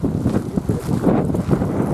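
Strong wind blowing across a churchyard buffets the microphone in steady low rumbling gusts that continue without a break.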